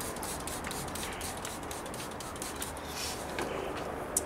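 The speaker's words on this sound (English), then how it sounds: "give that bit a little bit of a spray" A steady, soft hiss of fine water spray misting continuously over soil, fairly close and quiet, with no voices.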